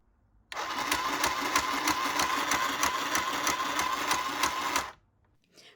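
Small battery-powered sewing machine, also plugged into the mains, running steadily for about four seconds with a fast, even mechanical clatter that starts and stops abruptly, heard alone and close up.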